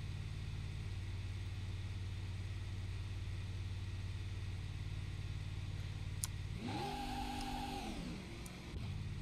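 A work truck engine in the BeamNG driving game drones at a steady idle, then revs hard with a rising, strained roar before settling back down near the end.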